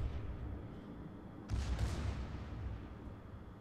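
Battleship main guns fire in the World of Warships naval game, a single heavy boom cutting through a constant low rumble of sea and engine noise, with no talk over it.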